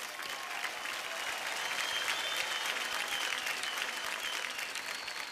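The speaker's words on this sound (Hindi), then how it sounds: "एक बार जोरदार तालियां हो जाए" Studio audience on a televised dance competition for mothers claps loudly and continuously. The applause stays dense and even for about five seconds, a full-room wash with a faint tone running underneath.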